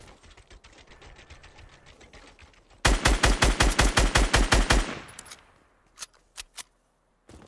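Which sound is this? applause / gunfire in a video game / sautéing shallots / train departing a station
gunfire in a video game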